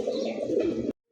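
Red indigo pigeon with white wings and tail cooing steadily and close by for about a second, then breaking off into silence before a faint sound returns.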